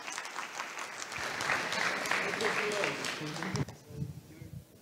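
An audience at a Voxxed Days developer conference in Thessaloniki claps for a colleague collecting a prize. The applause is dense and sustained, then thins out while a voice speaks over the end.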